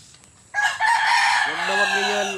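A rooster crows once, loud and close, a harsh rising call that stretches into a long held tone.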